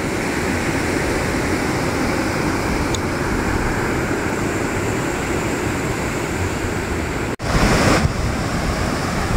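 Large ocean waves at Blado beach in Trenggalek, a continuous loud roar of surf with wind buffeting the microphone, a brief dropout and a heavier wash near the end.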